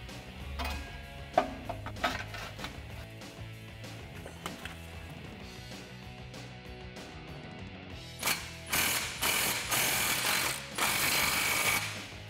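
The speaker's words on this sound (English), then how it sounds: "We're gonna step it up to a 15 millimeter deep socket from a 13 millimeter socket for all these new clamps" A hand ratchet with a 15 millimeter deep socket clicks steadily while tightening new exhaust clamps on a 2014-2018 Silverado cat-back system, close and fairly quiet, with faster, louder clicking runs near the end.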